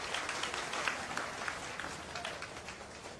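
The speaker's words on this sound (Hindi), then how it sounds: "जोरदार ताली बजाइए सब लोग।" Crowd applause at a political rally, a dense steady patter of many hands clapping at a distance, fairly faint, with a murmur of voices mixed in.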